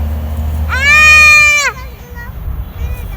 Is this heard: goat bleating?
yes